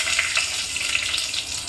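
Whole cardamom pods, a cinnamon stick, cloves and a bay leaf frying in hot cooking oil for vegetable biryani: a steady, close, crackling sizzle with no pauses and no voices.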